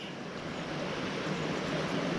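Water of a creek on the Juan de Fuca Trail rushing steadily, a broad, constant loud hiss with no breaks and no voices.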